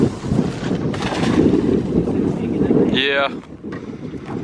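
Strong wind roars across a fishing boat at sea, a loud close rumbling gust buffeting the microphone throughout, with a person speaking briefly near the end.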